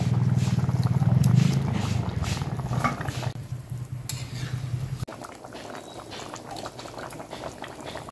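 Rui fish, fried beforehand, goes into a simmering potol and potato curry, with a loud steady bubbling and hissing boil that briefly swells, then settles into a softer, continuous simmer.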